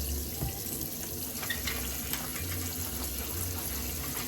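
Steady tap water running into a sink to wet an estate-sale item before cleaning with Bar Keeper's Friend soft cleanser, a constant close hiss with no talk.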